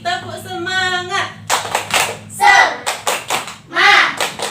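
A group, seemingly children, does the Indonesian 'tepuk semangat' spirit clap: a chanted call comes first, then a run of loud, rhythmic group claps in short bursts, with voices shouting along between them.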